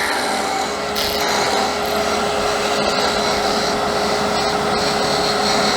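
Woodturning lathe parting off a quarter-inch tenon on a Christmas sphere ornament, a loud continuous whirring grind with brief scraping bursts, close and steady throughout.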